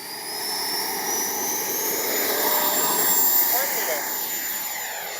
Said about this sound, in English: We're just going to take off.